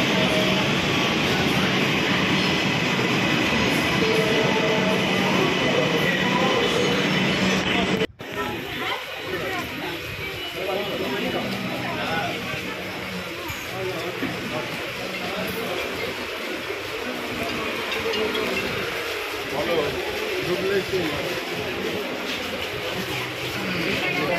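A Kolkata metro train rumbles through an underground station in a loud, continuous roar that cuts off abruptly and gives way to a lower hum and echoing crowd noise, with a person talking throughout.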